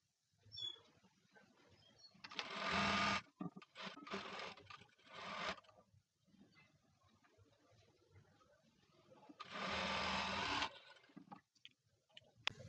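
A sewing machine stitches shaped belts for a blouse, running in three loud bursts separated by quieter handling sounds, with no talking.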